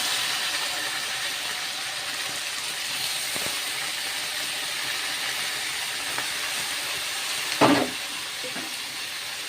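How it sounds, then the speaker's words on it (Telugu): Spicy chicken frying in a pan, giving a steady broad sizzle and hiss throughout, with a brief louder crackle burst near the end and no voices. "మేము చికెన్ కొంచెం స్పైసీగా రావాలనేసి ఫ్రై చేసుకునేటట్టు వేసుకుంటున్నాం"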